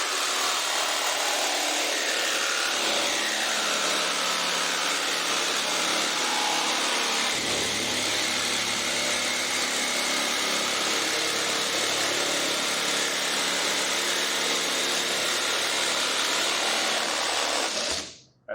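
A power saw cuts through corner insert molding for a square drop camper, with a loud, continuous high whine and grind that holds steady for many seconds before cutting off abruptly at the end.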